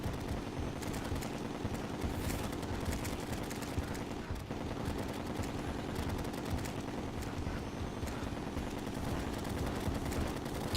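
Rapid gunfire rattles continuously in dense, overlapping bursts from automatic weapons in Terraria during the Moon Lord boss fight, steady and fairly loud without pauses.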